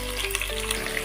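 Onions, green chillies, curry leaves and whole spices fry in an oily pan, making a dense, continuous close sizzle through a brief stretch with no voices.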